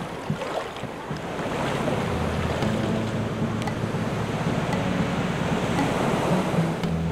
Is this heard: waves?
yes